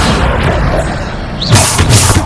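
A Bombarda blasting spell in Hogwarts Legacy lands as a loud booming burst about halfway through, rising over a dense, noisy rumble of game effects.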